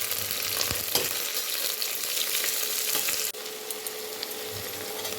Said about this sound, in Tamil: அடுத்து பூண்டு போடணும்